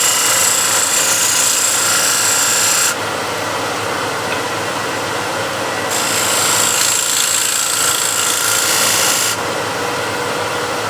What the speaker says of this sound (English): So I'll use a skew and get a little shoulder, maybe 1 mil wide